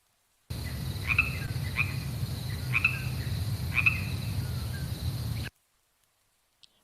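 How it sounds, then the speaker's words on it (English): Steady insect chirps repeat in short pulses over a low, constant background hum, then the sound cuts off abruptly. "We got crickets."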